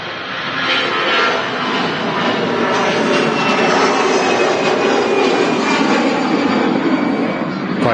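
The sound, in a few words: jet airliners at Manchester Airport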